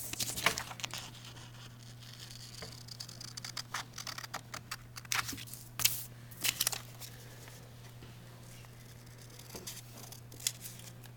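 Scissors snip through a paper wheel template in short irregular cuts and crinkles of paper, close and fairly quiet, with a faint steady hum underneath and no talking.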